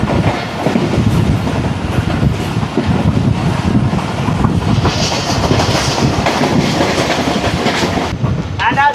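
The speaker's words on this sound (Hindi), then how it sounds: "ट्रेन हमारी मेहराबपुर से चल के बिरिया, बांदी, दौड़, नवाबशाह के बाद अब रुकने जा रही है शहजादपुर रेलवे स्टेशन।" The Millat Express passenger train runs on rails in Sindh, Pakistan, heard from on board as a loud continuous rumble with rhythmic clickety-clack of wheels over joints and faint squeals, briefly ending in a short chirp.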